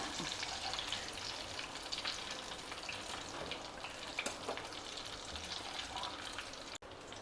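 Cut mirchi bajjis, battered green chillies, fry in hot oil with a soft, constant bubbling sizzle and a few light crackles, heard quietly and on its own.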